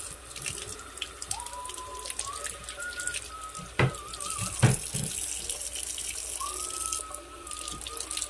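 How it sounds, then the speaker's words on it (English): Water from a kitchen tap runs steadily over tomatoes on the vine and cilantro being washed, with a few sharp clunks and splashes of handling at the sink, fairly soft and close. "Wash in some cilantro. Wash the tomatoes."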